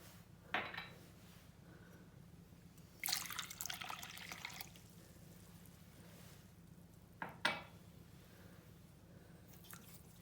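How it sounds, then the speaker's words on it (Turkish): Pastry ingredients other than flour are stirred in a mixing bowl, with faint wet sloshing and a couple of brief louder scraping bursts against the bowl over a steady low hum. "öncelikli olarak bütün malzemeleri karıştırıyoruz un hariç"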